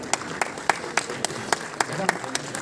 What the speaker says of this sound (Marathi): जोरदार टाळ्या वाजत राहू द्या मोहन जोशी सर यांच्यासाठी